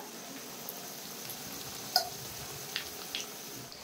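Chicken pakora pieces frying in hot oil give a faint, steady sizzle throughout, with a few soft ticks and pops rising above the low crackle and no voice.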